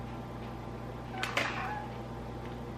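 A house cat meows once or twice indoors, short and fairly faint, over a steady low background hum with no talking.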